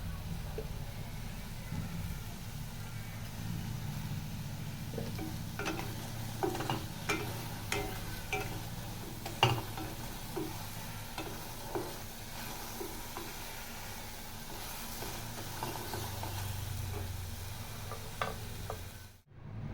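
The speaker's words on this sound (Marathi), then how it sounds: "तर हे पहा अशा प्रकारे आपण मसाला गरम करून घेतलेला आहे" Masala roasts in oil for a paneer curry, giving a continuous soft sizzle with scattered sharp ticks and scrapes from stirring, steady and close throughout before a brief drop at the end.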